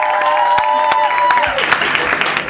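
Audience applause, a loud, dense wash of clapping that holds steady for a couple of seconds while a voice speaks over it.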